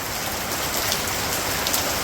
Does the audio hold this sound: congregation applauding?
no